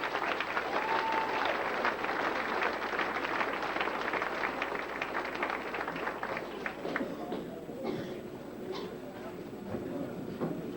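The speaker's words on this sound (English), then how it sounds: "let's give these guys a big round of applause" Sustained applause from an audience at a 2000 kids' racing awards ceremony, loud dense clapping that gradually thins and fades toward the end as voices rise.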